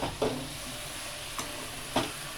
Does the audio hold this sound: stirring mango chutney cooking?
yes